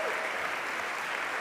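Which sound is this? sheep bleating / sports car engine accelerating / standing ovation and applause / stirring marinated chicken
standing ovation and applause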